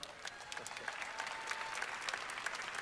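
The crowd at the Mr. Olympia bodybuilding finals applauds from a distance, faint, scattered clapping that continues in the background for a few seconds.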